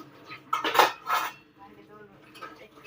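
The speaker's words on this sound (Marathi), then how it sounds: "भांडे धुवायचं काम, तर फायनली आज भांडे धुवून होते" Dishes, pots and cutlery clatter and clink in a few quick bursts as utensils are washed at a home kitchen sink, close and fairly loud against a quiet background.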